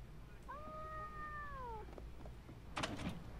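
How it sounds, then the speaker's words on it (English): A cartoon cat's drawn-out meow from an anime episode of Cowboy Bebop, one clear rising-and-falling call, followed by a brief clatter. "I love this cat"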